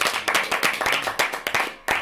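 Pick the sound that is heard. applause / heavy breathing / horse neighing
applause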